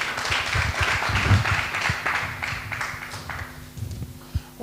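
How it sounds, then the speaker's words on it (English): An audience applauds at a live-streamed bank pitch event with judges, a scattered, moderately loud patter of claps that thins out over several seconds. "Another round of applause."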